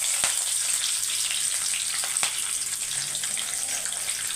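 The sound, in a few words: mustard seeds spluttering in hot sesame oil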